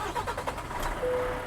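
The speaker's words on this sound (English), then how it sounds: "Turn on the engine." A car engine cranks with a few rhythmic pulses and then catches into a steady idle, close and moderately loud, with no speech.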